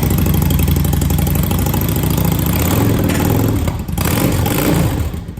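A Yamaha V Star 650 V-twin engine revving with the clutch held in and a foot on the brake, a steady loud close-up drone with higher RPM and a brief dip near the end, no talking.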